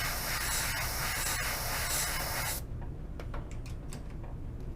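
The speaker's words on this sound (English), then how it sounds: "spray that real quick." A steady, loud hiss of spray paint runs for a couple of seconds, then cuts off, leaving faint clicks and rustles nearby.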